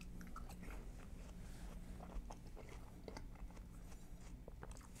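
Watermelon eaten with a fork from a buffet aboard a cruise ship, giving soft wet bites and chewing close to the ear over a steady low room rumble, with no talking.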